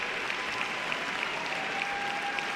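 A baseball crowd in the top of the ninth applauds and cheers steadily to encourage a veteran right-handed pitcher, a dense, even roar heard from a distance in the stands, with no clear talk over it.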